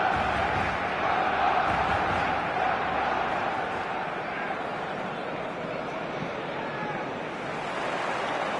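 A football stadium crowd on match day roars as a steady, dense wall of noise, with a commentator's voice talking over it throughout.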